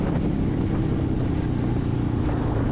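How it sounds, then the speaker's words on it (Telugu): Royal Enfield Meteor 350 motorcycle exhaust while riding, a steady, loud, punchy low rumble with constant wind-like road noise and no talking. "ఎగ్జాస్ట్ నోటు, సో చాలా పంచీగా ఉందన్నమాట అండ్ వెరీ లౌడ్ ఆల్సో."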